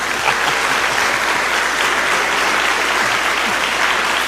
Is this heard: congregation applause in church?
yes